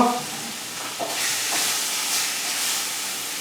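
Gammon steaks frying in a well-worn pan, a loud steady sizzle that swells after a brief clatter and holds as a bright, continuous hiss with no talking.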